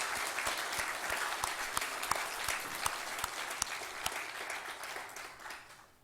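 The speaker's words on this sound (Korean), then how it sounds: "영광의 박수." A congregation claps during a Sunday morning church service, with dense, steady applause and sharp individual claps standing out, carrying on for several seconds before tapering off.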